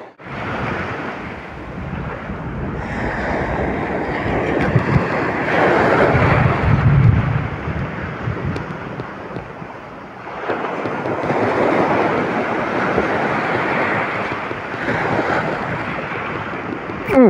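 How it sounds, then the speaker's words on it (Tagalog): Big ocean waves crash on the shore during sea fishing in rough water, making heavy roaring surges that rise and fall, with wind buffeting the microphone and no talk. "Ang lalaki ng alo na yan."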